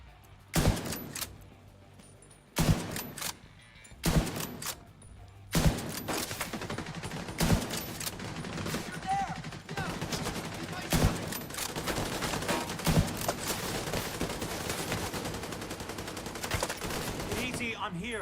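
Gunfire rings out in a shooter video game played with a one-shot sniper build, with a series of sharp loud shots and bursts recurring every few seconds, followed by sustained rapid firing, alongside game sounds and talk.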